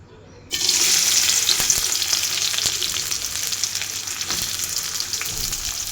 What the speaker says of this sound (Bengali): সরষের তেল দিয়ে দিয়েছি। এখানে এখন আমি পেঁয়াজ দিব।